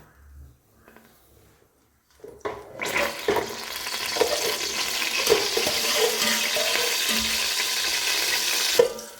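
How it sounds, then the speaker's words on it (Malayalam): Cashew nuts fry in ghee in a home kitchen as part of Christmas dishes. After a quiet start, a steady, dense sizzle rises and holds, with occasional light clinks and stirring. "ആദ്യമേ നമുക്ക് അണ്ടിപ്പരിപ്പ് വറുത്തെടുക്കാം കേട്ടോ."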